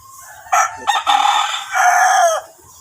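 A gamecock rooster crows loud and close in two long bursts, the first broken by short gaps and the second a steady drawn-out call. Faint low rustling sits beneath.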